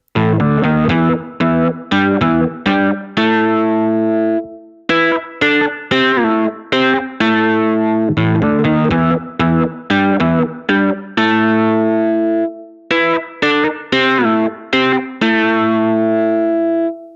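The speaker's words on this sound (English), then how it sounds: "FM synthesis that is applied to the sine wave oscillators in voices 1 and 2 of this preset" A bright, metallic FM synthesizer tone from the Source Audio C4 Synth plays a rhythmic sequence of chords and notes, loud and continuous, with short gaps between phrases.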